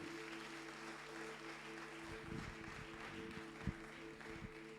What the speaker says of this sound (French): Give a hand to Jesus.